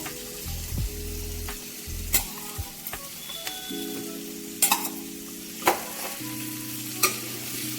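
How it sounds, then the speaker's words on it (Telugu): Prawns coated in salt, chilli powder and turmeric fry in a pan for a gongura prawn curry, with a steady sizzle under repeated sharp scrapes and clinks of a spatula stirring, close and alone. "ఇవి కూడా కొంచెం బాగా వేగాలి"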